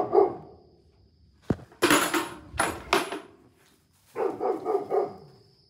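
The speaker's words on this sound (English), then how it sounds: "Maybe he's barking at me." A dog barks in several sharp, loud bursts spread over a few seconds, with short gaps and a quieter group of barks at the end, heard indoors near a farm with cows.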